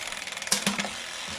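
Freewheeling ticks from the internal 5-speed hub of a Chedech full-carbon minivelo in third gear, a fast, fairly quiet ratcheting patter with a couple of slightly louder clicks midway.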